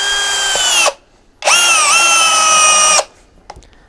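A Mensela ED-LX2 brushless impact drill drives a long 250x8 screw in two loud bursts, a short run of about a second, a pause, then a longer one of roughly a second and a half with a slight pitch drop, then quiet.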